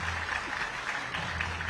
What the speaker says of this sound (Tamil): இதற்கு காரணமான மாண்புமிகு முதலமைச்சர் அவர்களுக்கு கைத்தட்டல்கள் மூலம் மனமார்ந்த நன்றியினையும் தெரிவித்துக் கொள்கிறோம்